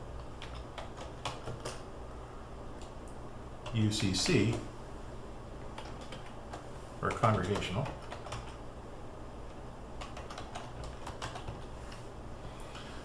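Soft keystrokes on a computer keyboard tap out an address in quick, light bursts, quiet and close, with a voice speaking over parts of it.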